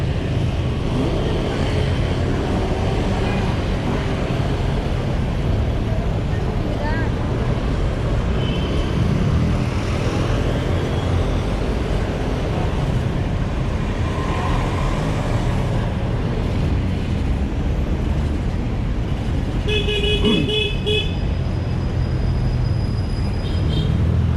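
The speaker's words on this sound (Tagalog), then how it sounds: "Busy sa lugar na to eh, ang dami sasakyan." Busy night city traffic on Buendia heading to MOA in Manila, a dense continuous rumble of passing vehicles heard from inside a moving ride, with a brief horn-like tone near the end.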